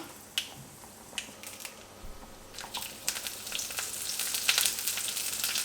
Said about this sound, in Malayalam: 1-2 വറ്റൽമുളക് പൊട്ടിച്ചത് ഇട്ട് കൊടുക്കാം.